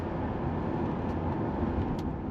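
Cabin of a 1996 Chevrolet Impala SS sedan on the move, a steady low road and engine rumble filling the interior without break, no voices.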